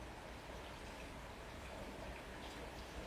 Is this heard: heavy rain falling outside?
yes